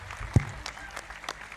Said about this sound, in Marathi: जोरदार टाळ्या देऊन त्यांना पुन्हा एकदा आपण